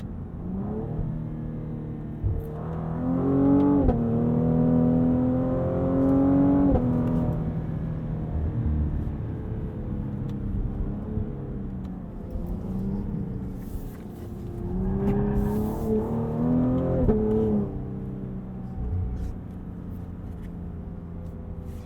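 A 2020 Cadillac CT5-V engine revs up through several gear shifts, heard from inside the car with rising pitch and brief drops between gears, steady road rumble beneath.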